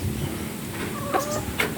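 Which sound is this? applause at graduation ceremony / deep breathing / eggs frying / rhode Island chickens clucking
rhode Island chickens clucking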